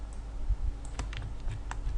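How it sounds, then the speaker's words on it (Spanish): Control and plus keys on a computer keyboard are pressed in a few quiet, close clicks against a low background hum. "Control y el botón más del teclado numérico para hacer zoom."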